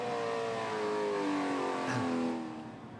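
An Australian Touring Car Masters racer's engine heard from on board at Hidden Valley, a loud continuous roar with rising pitch as it accelerates, easing off near the end as the car slows for a corner.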